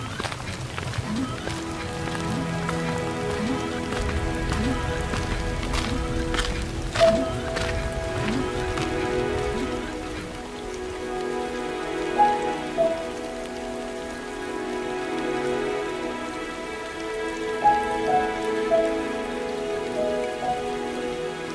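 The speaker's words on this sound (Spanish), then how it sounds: "el sonido de la lluvia contra las ventanas creaba un fondo de constante murmullo" Steady rain falls on surfaces in a dense, continuous patter, with scattered louder drips and splashes standing out close by over a soft, hissing wash.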